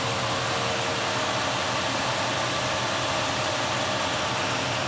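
A 2002 Dodge Ram 1500 SLT Quad Cab with a 4.7 liter V8 idling, a steady, even engine drone heard from close by with no voices.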